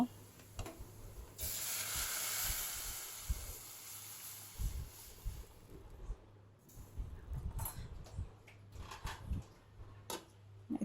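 Dal poured into a hot pan of fried spices sets off a loud hissing sizzle that fades to lighter bubbling, followed by scattered clinks and handling sounds.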